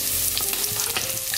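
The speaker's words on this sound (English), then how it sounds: "now that our onions are nice and soft, I'm going to add in our garlic" Onions and garlic sizzle loudly in a pan while being stirred, a dense close crackle broken by a few scraping movements.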